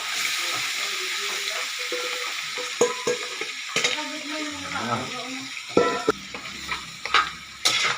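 Food is stirred in a hot pan in a restaurant kitchen, with continuous sizzling frying and scattered scraping and clanking of the utensil, while voices talk nearby.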